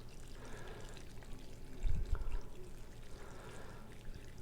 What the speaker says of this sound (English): And then we take and we pour that over our cucumbers.